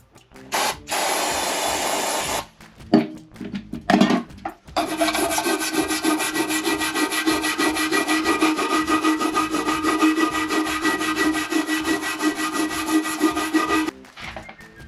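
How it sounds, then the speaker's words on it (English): Rough, continuous scrubbing of a stiff wire brush on a 1934 Singer Le Mans engine block sprayed with brake cleaner, loud and close, with a few brief pauses and strokes at the start. "what I'm doing here is spraying on some brake cleaner and then scrubbing with a wire brush"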